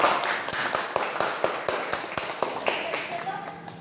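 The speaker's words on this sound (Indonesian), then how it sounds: "Kita beri aplaus dulu untuk kelompok." Scattered audience clapping for a student group after their classroom project presentation, a modest run of uneven claps, fairly close.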